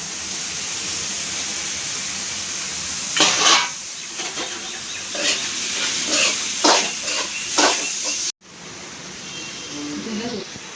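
Chopped tomatoes frying in a pan for a Sunday special meal, a steady sizzling hiss broken by a few stirring scrapes, with a brief cut near the end and no talk.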